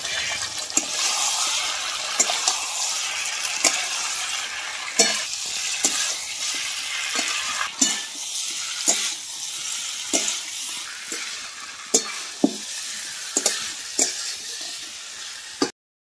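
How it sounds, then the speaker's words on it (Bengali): Jackfruit and potato pieces frying with freshly ground spice paste in a pan, a continuous sizzle broken by repeated scraping stirs of the spoon roughly every second, close and fairly loud throughout. "তারপরে এখন ভালো করে ভেজে নেবো আরেকবার।"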